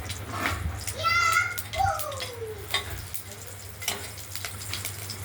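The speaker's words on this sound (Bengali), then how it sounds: "কড়াইটা গরম করে লঙ্কা সর্ষে দিয়ে দিয়েছি।" Mustard seeds and green chillies tempering in hot oil in a kadai, a steady crackling sizzle with faint pops running under a voice and a child's speech, fairly quiet and continuous.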